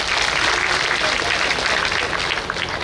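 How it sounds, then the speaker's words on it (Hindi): An audience at a Bhagwat katha recital claps loudly and continuously, a dense wash of applause that holds steady throughout, with a voice faintly mixed in. "एक बार जोर से ताली सेवा हो जाए।"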